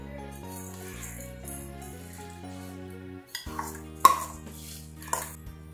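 Washed atap rice goes into a pot of hot water for vegetable khichdi, with metal clanks, a rattling pour and clinks of the vessel over steady background music.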